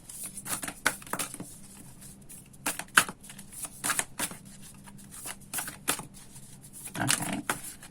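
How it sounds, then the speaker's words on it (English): Tarot cards riffle and slap together in repeated bursts of crisp papery shuffling, close up, with short pauses between rounds. "I will shuffle these cards"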